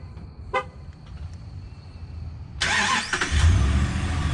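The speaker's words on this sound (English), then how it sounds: "So that was the double horn honk." A 2012 Ram 1500 Hemi pickup started remotely from the key fob: a short horn toot, then the engine cranks and catches into a steady idle with a second honk, heard nearby outdoors.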